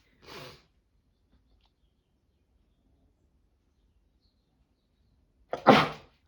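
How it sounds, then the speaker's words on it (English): Two sneezes in near silence, a small stifled one first and a louder, sharper one several seconds later. "Oh, I had to sneeze."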